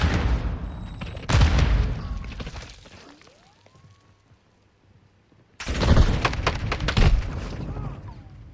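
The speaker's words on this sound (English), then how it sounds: "Throwing grenade!" A grenade explosion in Call of Duty Modern Warfare II, heard as a loud close blast followed by a fading tail and near silence, then a second heavy burst of explosive and gunfire noise.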